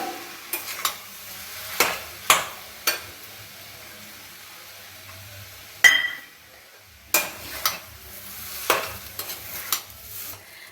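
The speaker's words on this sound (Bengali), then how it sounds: "ঘন করে নেড়ে নেড়ে মিশিয়ে নিতে হবে" Thick semolina dough is being stirred in a pan, with a spoon scraping and clinking against the metal in scattered, irregular strokes, fairly close and quiet, with pauses between strokes.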